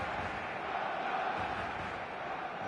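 Dense, steady roar of a stadium crowd in a football video game, a continuous wash of cheering and chanting at constant loudness with no clear breaks.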